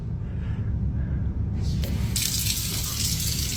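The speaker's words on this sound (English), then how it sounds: "Okay, that's enough water, please." Tap water runs steadily in a home sink, a continuous hiss that swells louder and brighter partway through, with no talk over it.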